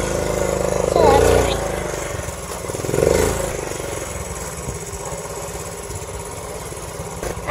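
A small Honda Z50 motorcycle engine runs steadily in second gear, a close mid-pitched drone that swells twice, with voices talking over it.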